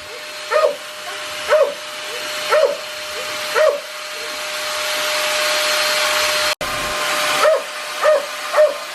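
An electric blower fanning a barbecue grill whirs continuously, rising and falling slightly, while a dog barks in short, regular bursts over it.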